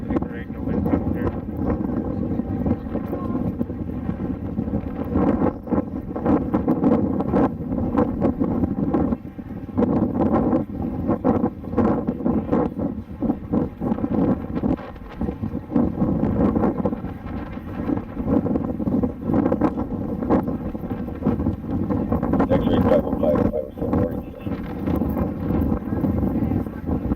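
Strong outdoor wind buffets a camera gimbal microphone, a steady loud rumbling roar with gusty surges throughout, and faint speech now and then beneath it.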